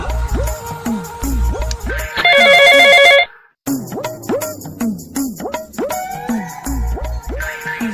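A mobile phone rings with a loud, close melodic ringtone, repeating chirpy tonal phrases, a dense buzzing burst and a brief silent gap before the tune resumes.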